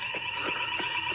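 A school fire alarm rings with a continuous, piercing electronic tone at a fairly loud level, while a few brief swooping sounds rise over it.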